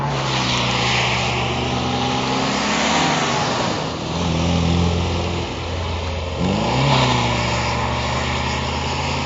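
Small BMW drift car engine revving hard on a gravel drift area, loud sustained engine roar with pitch rising and falling through throttle blips and a gear change, heard close and continuously without talk.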